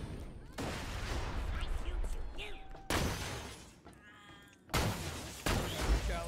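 Grenade explosions and gunfire in the video game Borderlands 2, with repeated loud broadband blasts and crackling bursts in a busy combat scene, sharp hits near 3 and 4.7 seconds, and a voice talking over the fighting.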